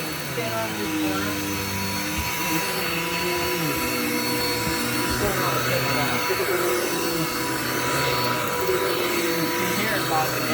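A Dirt Devil vacuum cleaner runs loud and close while vacuuming a house, its motor whine dipping and straining as it bogs down in uneven surges, with a voice talking over it.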